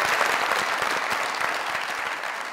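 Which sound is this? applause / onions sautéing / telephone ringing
applause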